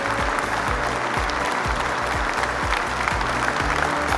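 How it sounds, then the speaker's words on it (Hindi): Loud, steady applause from an audience at a national family Bible quiz, greeting a quiz team from St. Vincent Church in Bilaspur, sustained and dense throughout without pause. "सो जोरदार तालियों से इनका स्वागत कीजिए।"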